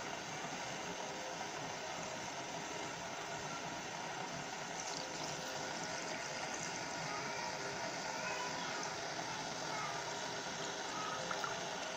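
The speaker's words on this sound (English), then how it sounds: "And add water on top." Water poured into a pot of groundnut soup with meat, a steady continuous rushing and splashing pour that runs unbroken and fairly loud from start to finish.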